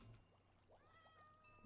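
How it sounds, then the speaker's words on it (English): A cat in the Minecraft video game gives a few soft, short meows, faint and alone against near silence, followed by a brief louder bump at the end. "A kitty. Can we tame it with cooked fish?"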